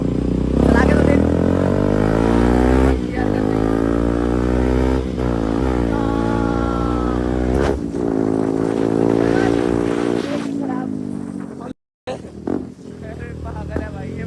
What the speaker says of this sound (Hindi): हमारा आड़ू भाई फर्स्ट टाइम सौरभ की बाइक चला रहा है।